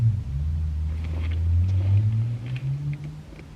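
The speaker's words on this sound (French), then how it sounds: "j'entends encore la Ferrari" A Ferrari engine drones as it passes in a residential street, a low, steady rumble that swells and fades slightly, moderately loud with some wind buffeting and no talk.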